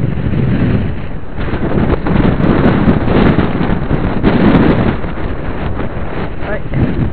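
Strong, sustained gusts of a windstorm roar and buffet the microphone outdoors, swelling and easing in loud waves, with a voice speaking over it.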